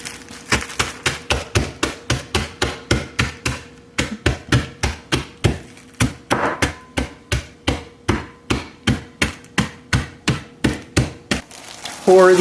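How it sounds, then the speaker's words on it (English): A kitchen hammer strikes walnuts and cashews in a fast, steady series of sharp cracking blows, close and loud, about thirty hits with a short pause partway through. "Got my kitchen hammer."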